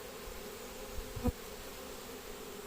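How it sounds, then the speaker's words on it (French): A honeybee swarm being collected with a pole hums in a steady, dense drone as the bees fan to call the others back, with a brief low bump partway through. "les abeilles battent le rappel à fond la caisse"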